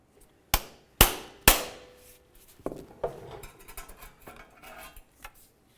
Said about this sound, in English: we're going to use a pry bar and a hammer